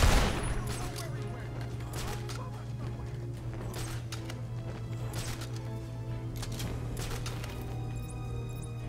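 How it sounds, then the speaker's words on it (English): Continuous video game gunfire from shotgun-armed enemies in Batman: Arkham Asylum, a steady barrage of sharp bursts over a droning game soundtrack, sustained throughout without clear speech. "They have freaking shotguns."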